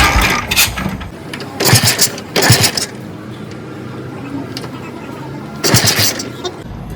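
A WWII-era BSA 500cc motorcycle is kicked over repeatedly, giving several loud, separate mechanical thumps spaced across the clip with no engine catching in between.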